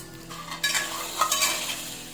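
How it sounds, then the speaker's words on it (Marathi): Chicken momo filling with tomato sauce and soy sauce sautéed in a pan, a close, steady sizzle broken by a few louder stirring scrapes, no voices. "आणि हा असा परतून घ्यायचा आहे"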